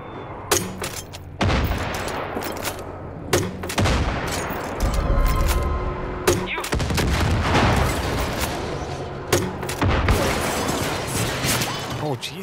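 Heavy gunfire from a Far Cry 5 convoy fight, with repeated loud bursts and booming shots hitting across the whole stretch, layered over dense battle noise. Someone talks in between.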